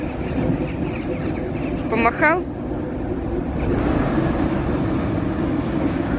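A freight train rumbles past steadily nearby at a rail yard, a low continuous roar of rolling wagons, while rooks chirp briefly and a person speaks a short phrase.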